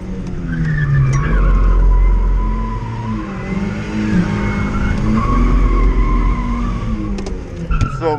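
A supercharged car drives a race track, its engine droning and shifting in pitch as it accelerates and eases off, with tire noise and some faint talk underneath.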